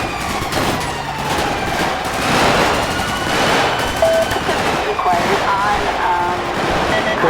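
Gunfire during a police pursuit, rapid bursts of shots mixed with engine and wind noise while a voice talks over the radio, loud and dense throughout.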